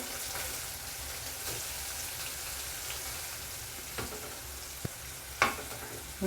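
Oil sizzles steadily as two finely chopped onions fry in a pan, with a few soft clinks of stirring near the end.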